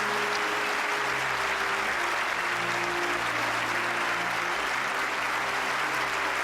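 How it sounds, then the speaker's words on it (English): A broad wash of sustained applause from a large audience honouring firefighter heroes, steady and dense throughout with no voices standing out. "Would you please join me in a round of applause for these heroes?"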